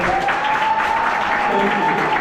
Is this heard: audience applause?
yes